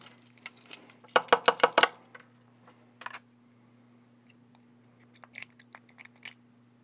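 Scissors snip through the plastic shell of a Rival blaster in a quick burst of five or six close, crisp cuts, then a few scattered lighter snips over a steady low electrical hum.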